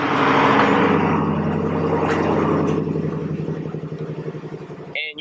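A Jeep Grand Cherokee SRT engine fires up close by with a loud throaty roar that settles into a rumbling idle, pulsing and fading slightly, before a brief clatter at the end.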